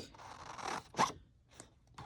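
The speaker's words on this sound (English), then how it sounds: "Let's cut this envelope out for that pocket." Scissors cut through a paper envelope in a few short crisp snips and scrapes, close and fairly quiet, with brief pauses between strokes.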